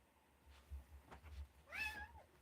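A cat gives a single faint meow near the end, heard over a low hum in a quiet indoor room.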